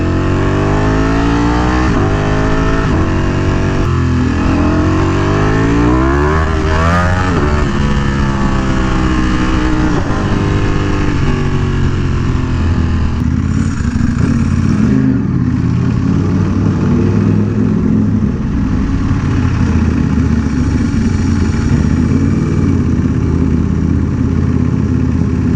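A Ducati Panigale V4R with a dry clutch runs loud and close throughout, its engine droning steadily with rising and falling revs over a constant rumbling roar.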